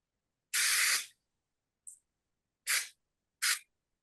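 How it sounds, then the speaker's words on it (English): Aerosol spray hisses onto Chinese paper-cut art in four separate bursts: one long spray, a tiny puff, then two short sprays, each close and sharp against silence. "And I'm going to spray right now."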